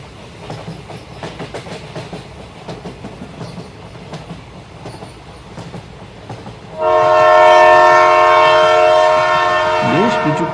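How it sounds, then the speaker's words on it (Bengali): Cartoon train running toward Sealdah station: a steady rumble and clatter, then a loud, sustained horn blast takes over for the last few seconds, close and dominant. "বেশ কিছুক্ষণ পর ট্রেন পৌঁছে গেল শিয়ালদা স্টেশনে।"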